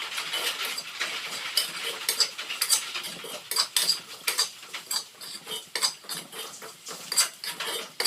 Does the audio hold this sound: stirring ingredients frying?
yes